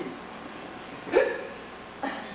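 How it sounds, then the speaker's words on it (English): During a stage performance of Noel Coward's play Hay Fever, an actor gives two short, sharp hiccups about a second apart over quiet room tone. "I say, I've got hiccups."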